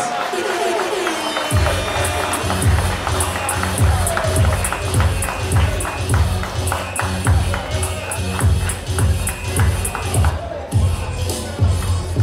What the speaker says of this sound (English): this is the applause that comes with it